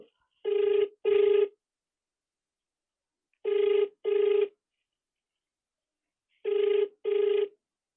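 A telephone rings in three pairs of double trills, each pair separated by a few seconds of silence, clear and fairly close.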